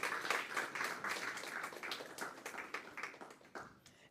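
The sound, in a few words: applause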